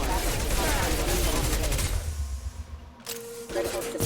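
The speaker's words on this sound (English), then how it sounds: "my pistol is a 3-shot, 3-round burst pistol, which is kind of cool" Rapid bursts of three-round pistol fire from Mass Effect 2, dense and loud through the first half, then thinning into a quieter stretch with a few later shots and a voice speaking.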